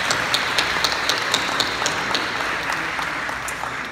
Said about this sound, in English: I think everyone here should give themselves a big round of applause